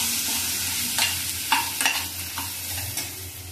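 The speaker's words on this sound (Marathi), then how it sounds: "चांगलं परतून घेऊया" Ground coriander and cumin paste sautéing in a pan for Satputi wild monsoon greens, with a steady close sizzle and several sharp spoon scrapes and stirs spaced through it, no voices.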